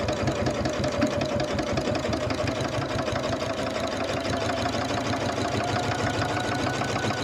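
A sewing machine runs steadily, stitching rows of a jelly roll rag quilt, its close, even mechanical chatter going on without pause and with no talking.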